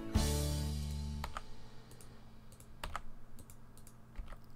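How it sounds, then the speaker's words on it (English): Keyboard keys are pressed on a computer while editing a Rollercoaster Tycoon Halloween beta track, giving a few sharp close clicks and taps after a brief louder opening tone, with no talking. "Click one, hit delete on your keyboard."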